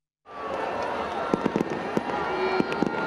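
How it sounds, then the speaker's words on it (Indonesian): Fireworks at the closing of Jakarta Fair 2025 burst into a dense, continuous crackle, with sharp louder bangs popping through the steady roar. "Pesta Kembang Api memeriahkan penghujung gelaran Jakarta Fair 2025"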